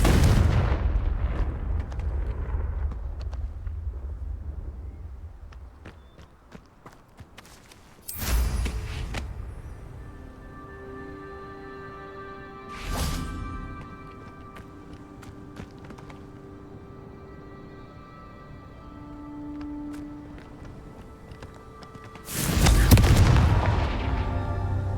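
Confringo blasting spell explosions in Hogwarts Legacy, four heavy booms spread across the stretch, each followed by a long rumbling decay, the last one loudest, with quieter ambient tones between.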